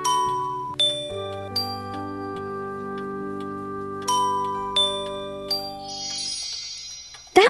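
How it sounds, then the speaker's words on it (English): Bells ring out in a bright, tuneful sequence of chiming strikes, each note ringing on and overlapping the next, loud and close, with a final sharp knock at the end. "firstly, you need to ring the bells"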